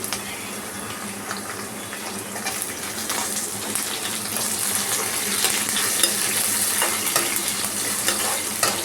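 Tomato added to garlic frying in a pan for a soupy veg Maggi, a continuous bright sizzle that builds gradually with spatula stirring, steady and fairly loud with no voices.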